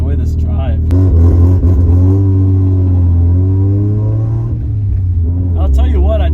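A turbocharged rotary-engined Mazda RX-7 revs and pulls with a deep, steady droning rise in pitch, loud and close throughout the drive, easing off briefly near the end before climbing again; a voice may sit faintly beneath the engine.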